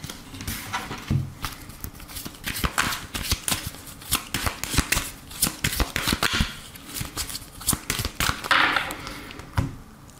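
Oracle cards being shuffled by hand, a close, busy run of crisp papery flicks and soft slaps in an uneven rhythm that continues throughout, with no talking.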